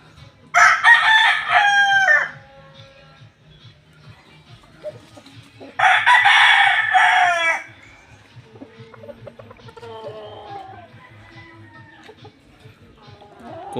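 Young roosters crow twice, loud and close, each cock-a-doodle-doo lasting about two seconds, with a quieter cluck and faint bird sounds in the pauses between.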